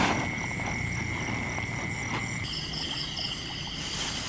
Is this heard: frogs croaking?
yes